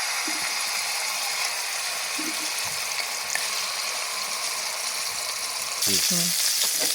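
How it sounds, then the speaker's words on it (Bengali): Hot oil sizzles steadily in a pan, then flares louder near the end as fresh river fish hits the oil, with a few brief voiced sounds. "তেল গরম হয়েছে, দিয়ে দিচ্ছি মাছ"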